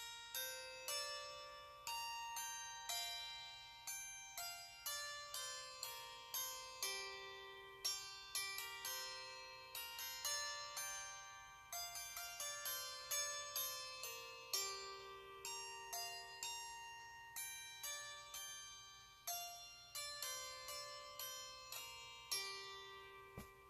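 Cherry seven-string double-strung lyre struck with a poplar dowel like a hammered dulcimer, with bright plucked-bell notes bouncing in quick rhythmic runs and ringing sustain, played alone and fairly quiet.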